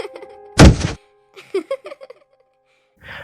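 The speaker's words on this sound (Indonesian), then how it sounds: "Terdengar suara orang terjatuh dari lorong" A person falls in a hallway: one heavy thump with a brief scuffle near the start, followed by some quieter rustling and knocking noises and a faint trailing sound at the end.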